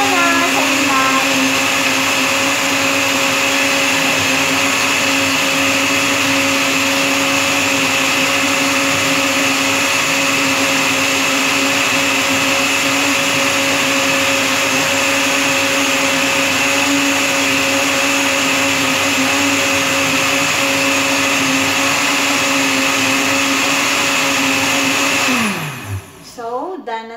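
A blender runs steadily, loud and continuous, as a shake is made in a home kitchen. It keeps a constant whirring drone for nearly the whole stretch, then winds down abruptly near the end.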